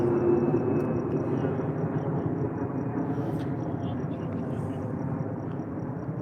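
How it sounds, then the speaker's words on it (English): A jet airplane rumbles overhead in Arizona, a steady broadband roar that holds at constant loudness throughout, with faint outdoor background and no clear voices. "There's a lot of jet traffic."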